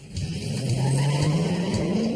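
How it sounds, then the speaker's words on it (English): A car locks up its brakes at speed on a driving course, giving a loud, sustained tire squeal whose pitch rises slightly over a couple of seconds against engine rumble. "I just have to lock up the brakes."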